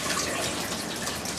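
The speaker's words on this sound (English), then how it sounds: "Just wash it a little bit in case it's some dust or something." Food being rinsed under a running kitchen tap while goulash is prepared: a steady, close, even rush of water with no voices.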